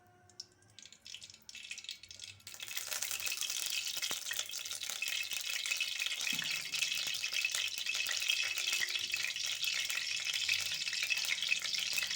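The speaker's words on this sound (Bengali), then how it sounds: "এবার কাঁকরোলগুলোকে ভেজে নেব" After a few quiet seconds, a loud sizzle bursts up as batter-dipped stuffed pointed gourds hit hot oil in a wok and keep frying vigorously with crackling.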